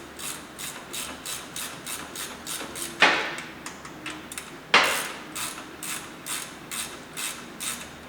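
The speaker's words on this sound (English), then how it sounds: "Get my ratchet again. So I'm just going to tighten these guys up." A ratchet tightening bolts on a Wilwood rear disc brake, giving a steady run of quick, close clicks broken by two sharper clunks, with no talking.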